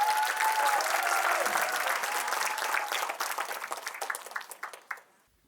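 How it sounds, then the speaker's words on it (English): An audience applauds a grade 11 student speaker at an education talk, full dense clapping that thins into scattered individual claps before fading out. "Let's give our biggest round of applause for Kenneth"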